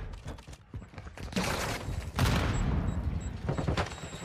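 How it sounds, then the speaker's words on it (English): Video game gunfire in a ranked Call of Duty Control match on the Asilo map: loud, dense bursts of rapid shots and booms that build into a sustained barrage. "I'm kind of shooting insane"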